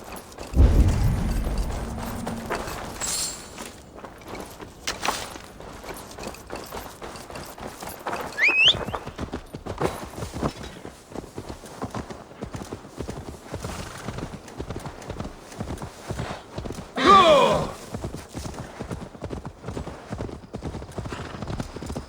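Horse hooves clip-clop steadily in Assassin's Creed Valhalla, a long run of even, close footfalls with a brief whinny partway through and game ambience beneath.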